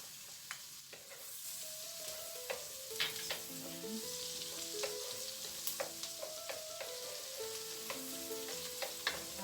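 Garlic frying in butter in a pan for corned beef, a steady soft sizzle with scattered crackles and occasional utensil clinks and stirring, fairly quiet and close.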